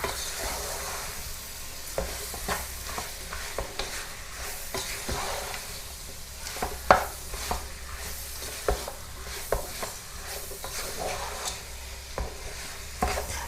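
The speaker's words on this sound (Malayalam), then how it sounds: "പഴുത്ത മാങ്ങ ഇട്ടിട്ട് നമുക്ക് നന്നായിട്ടൊന്ന് മിക്സ് ചെയ്ത് കൊടുക്കാം" Ripe mango pieces being mixed into a pickle in a pan, a spoon scraping and knocking in an irregular rhythm over a low sizzle, close and moderately loud with no talking.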